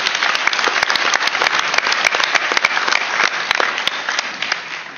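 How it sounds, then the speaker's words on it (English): An audience at a Senate veterans' affairs field hearing in Atlanta applauds guests, with sustained, dense clapping full of sharp individual hand claps that tapers slightly toward the end. "So give them a round of applause."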